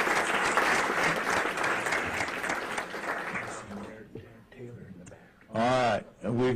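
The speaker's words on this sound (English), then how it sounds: "let's give them a big hand" Audience applause for county employees at a budget hearing, a steady wash of clapping for about three seconds that fades out, followed by someone speaking in the room.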